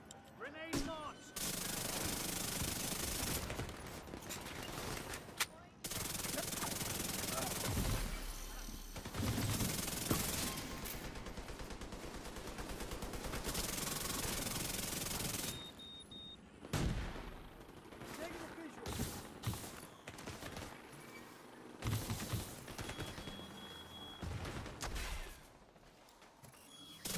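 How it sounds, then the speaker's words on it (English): Gunfire and grenade-launcher shots in the Tom Clancy's The Division 2 shooter, with dense, loud bursts of automatic fire and explosive blasts that come in long volleys broken by brief gaps and isolated shots. "Grenade launched!"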